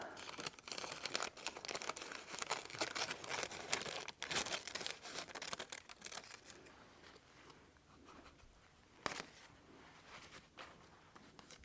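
Paper being cut out by hand: faint, close crinkling and rustling with small tearing snips that come in irregular bursts, then thin out into a quieter stretch broken by a single sharper crackle.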